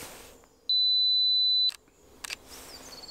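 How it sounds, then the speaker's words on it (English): A camera's two-second self-timer gives one steady high beep lasting about a second, followed by a couple of short clicks in a quiet woodland setting. "I'm going to put a 2 second timer on."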